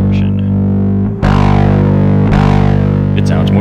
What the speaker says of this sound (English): Sounds like with lots of distortion.